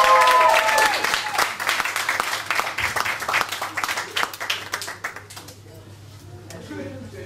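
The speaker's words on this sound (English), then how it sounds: "when she comes to the stage, you must applaud it loudly" An audience at a speaking event applauds loudly to welcome journalist Yvonne Ridley to the stage, dense clapping at first that gradually thins and fades toward the end.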